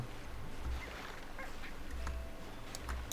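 Chickens cluck in the video game Slime Rancher 2, a few short bird calls over a steady low ambient hum, fairly faint.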